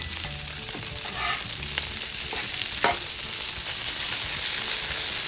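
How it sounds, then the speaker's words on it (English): Steak pieces sizzle on an oiled griddle for Mongolian beef, a loud steady frying hiss with occasional scrapes and taps as the pieces are spread apart and turned, close by and without speech. "You'll want to cook these steaks for about a minute to a minute and a half, and just spread them apart to make sure they cook evenly."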